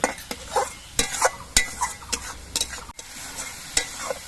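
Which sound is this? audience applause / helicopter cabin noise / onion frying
onion frying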